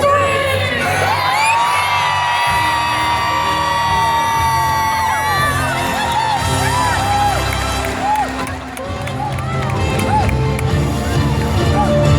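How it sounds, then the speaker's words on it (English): A large crowd of children at a circus screams and shouts together, loud and sustained, with excited whoops rising above the roar. "I want to hear everybody scream, "Wake up, elephants!""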